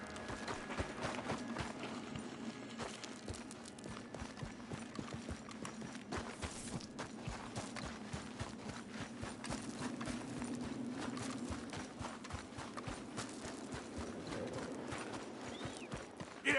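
Horse hooves clip-clopping steadily at a walk in the video game Red Dead Redemption 2, a close, continuous rhythmic beat of hoofsteps over low ambient outdoor noise, with no talking.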